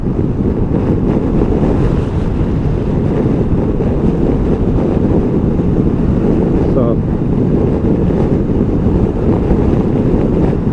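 Constant loud wind turbulence roars over the microphone while riding a SuperSoco CPX electric scooter at higher speed, a dense rushing buffet throughout with no clear talking.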